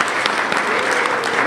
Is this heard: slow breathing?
no